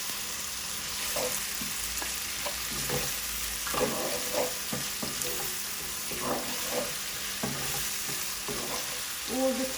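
Garlic ginger paste sizzles in a hot pan with salt, a continuous frying hiss broken by repeated scraping and stirring knocks from a spoon, close and fairly loud with no talk.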